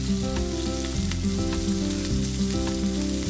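Japanese eggplant searing in a frying pan gives off a steady, dense sizzle that stays loud and close for the whole stretch, with no voices over it.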